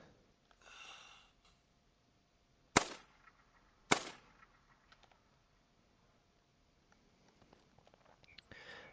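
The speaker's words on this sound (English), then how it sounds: "So let's just shoot one of them" Two sharp rifle shots crack out about a second apart while hunting mule deer in a wilderness hunting game, with faint rustling and quiet breathy sounds between them.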